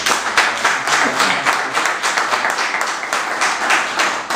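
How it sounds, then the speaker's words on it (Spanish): Audience applause greets a guest from California at an honorary doctorate tribute in Madrid, a dense, steady wash of many hands clapping at close range with no voices over it. "les deseo un fuerte aplauso"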